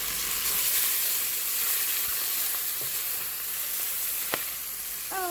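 Spaghetti squash seasoned with herbs and spices sizzles steadily in a hot pan, a constant frying hiss with a few faint clicks and utensil taps near the end.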